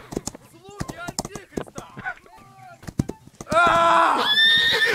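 Horse whinnying in the video game Holdfast: Nations at War, with a loud, sustained neigh near the end following stretches of close, animated talk.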